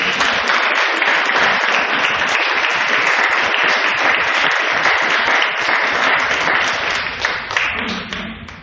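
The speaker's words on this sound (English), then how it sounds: "Should we give a big round of applause?" An audience at a fundraising concert in St Mary's Church, Benfleet, gives sustained applause, dense clapping that fills the room and then tapers off near the end.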